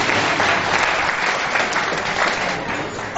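A large audience claps steadily for a poet at a Hindi poetry gathering, dense and sustained throughout, easing slightly near the end.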